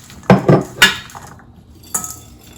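Glass jars clinking as a pound of chili is divided between two of them for homemade hot sauce, a few sharp close knocks and clinks in quick succession, then one more after a short pause.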